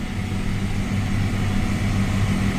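A tractor engine pulls a tillage implement fitted with fresh new points through the ground, giving a loud, steady, close drone with a low throbbing hum and no talk.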